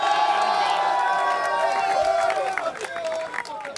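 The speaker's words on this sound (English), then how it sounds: "can we get one more round of applause for your TI champs?" A large arena crowd at The International esports championship applauds and cheers for the winning team, a dense wash of clapping and shouts with a voice speaking over it near the end.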